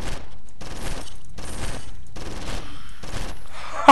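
Gunshots in the video game Condemned: Criminal Origins, fired as a string of five or six loud, evenly spaced bursts, each a short dense clatter with gaps of quiet between.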